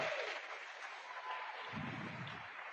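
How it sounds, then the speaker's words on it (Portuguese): Quiet, distant applause from a church congregation fills the space evenly, with a low rumble swelling briefly near the end. "Você pode aplaudir o Senhor por eles?"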